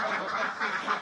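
Several farm ducks quack together in a steady, loud chorus, one clear burst after another across the second, close by with no talk over them.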